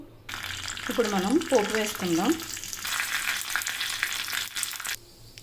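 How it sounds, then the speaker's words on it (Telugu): A tempering for ridge gourd chutney crackles and sizzles in hot oil close by, a continuous frying hiss with a brief stretch of talking over it early on, ending abruptly. "ఇప్పుడు మనం పోపు వేసుకుందాం."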